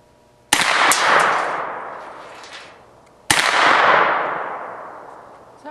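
Two loud, close gunshots from a Thurion Defence 9mm carbine, each a sharp crack followed by a long echoing decay. The shots come about three seconds apart.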